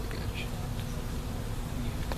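Honey bees buzz steadily and close by while a nucleus colony is installed into a hive, a dense, unbroken swarm drone filling the whole moment with no talking.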